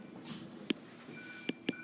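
Incoming phone call tone, three short electronic beeps spaced apart, faint and isolated against a quiet room.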